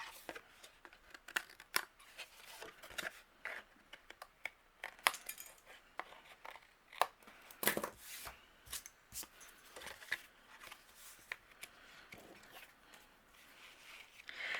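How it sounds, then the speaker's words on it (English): Scissors snip through paper repeatedly in quick, irregular trimming cuts, close and fairly quiet, with light rustling between snips and no talking. "if I have overhanging, I'm going to trim off with my scissors"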